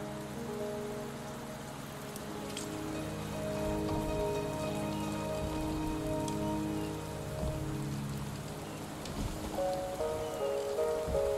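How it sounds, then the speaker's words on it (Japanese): Steady rain falls and patters on surfaces in a Wuthering Waves video game cutscene at Mt. Firmament, a continuous soft hiss with sustained musical tones underneath and no voices. "雨足が弱まってきたね。"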